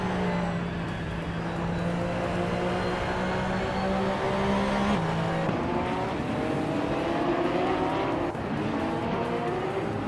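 A 2017 Porsche 911 GT3 Cup race car in a racing game holds a loud, steady high-revving engine note that climbs through the gears with brief shifts, continuous and close throughout.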